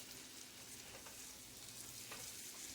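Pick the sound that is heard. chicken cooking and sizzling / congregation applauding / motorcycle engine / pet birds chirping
chicken cooking and sizzling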